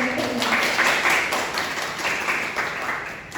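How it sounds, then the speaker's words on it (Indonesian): Applause from an audience at a student health-advocacy roleplay presentation, steady moderate clapping filling the whole stretch at medium distance. "Beri tepuk tangan yang sangat luar biasa"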